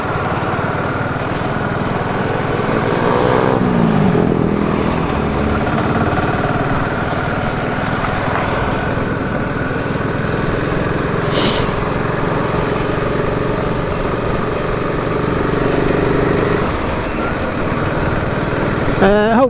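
A BSA Goldstar 650 single-cylinder motorcycle runs steadily, its exhaust note a continuous, fairly loud thrum that holds throughout, with a voice speaking over it.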